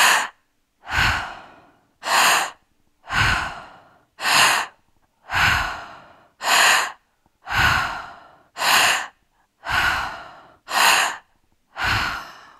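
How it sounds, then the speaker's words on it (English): Deep breathing exercise with long, full inhalations and audible exhalations released in a steady rhythm, about ten breaths close to the microphone with no talking. "once your breath is full, it just comes out"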